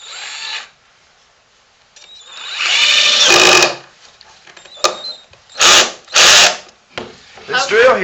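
A cheap Harbor Freight power drill whirs in a wood shop in several short, loud bursts separated by pauses, with a few quieter clicks between them and a voice at the start and end.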